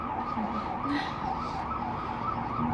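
Ambulance sirens wail faintly from outside, a rising and falling tone heard at a distance against low traffic rumble.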